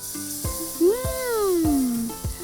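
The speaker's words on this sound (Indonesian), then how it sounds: "Kemudian tuang bumbu yang sudah dihaluskan ke dalam wajan." Ground spice paste hitting a hot wok, a steady bright sizzling hiss throughout with a brief gliding whine and a few soft knocks.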